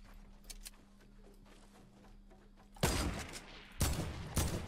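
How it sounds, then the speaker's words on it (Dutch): Bursts of Fortnite gunfire erupt after a quiet moment, several rapid volleys in close succession. "ik zie schoten. Ik zie schoten."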